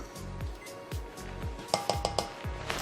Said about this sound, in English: Give these vegetables a little bit of a stir.